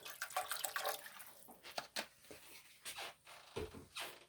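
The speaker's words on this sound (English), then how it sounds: "I'm going to add just a little bit of water to this." Spring water poured from a container into a pan of thick sauce, a brief watery trickle and splash at close range, broken into short bursts with quiet gaps.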